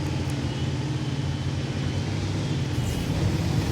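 Inside a BZ-176 with rockets running in a video game, a steady, loud low roar drones on without pause, a constant rumbling hum throughout.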